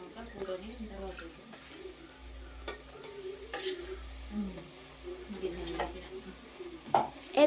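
Chicken egg stomach fries in oil for a village-style chicken curry, with soft sizzling and scattered scraping stirs, while pigeons coo nearby and a voice murmurs faintly.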